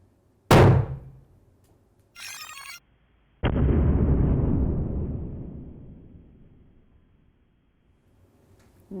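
A hydrogen-filled balloon ignites in a lab with one loud sudden boom that rumbles away over a few seconds, preceded by a sharp pop and a brief click-like burst.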